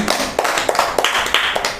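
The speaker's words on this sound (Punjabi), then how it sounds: "ਤਾੜੀਆਂ ਮਾਰੋ ਇੱਕ ਵਾਰੀ ਸਾਰੇ ਬੱਚੇ" A group of children clap together close by in a quick, even rhythm, their sharp claps repeating steadily with no talking.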